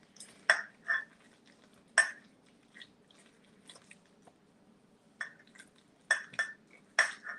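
Spoon stirring a dinner mixture with mozzarella cheese in a pot, sparse close metallic clinks and scrapes in irregular bursts separated by quiet gaps, with no talking.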